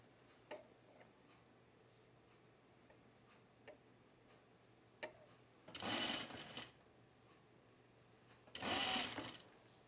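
Home sewing machine stitching a shirt seam while running low on bobbin thread: two short whirring bursts of stitching separated by quiet pauses and scattered light clicks, close and moderately loud.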